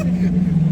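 Brief, steady low drone from a Lamborghini Aventador fitted with a Capristo exhaust, heard close and fairly loud for under a second, with faint crowd murmur in the background.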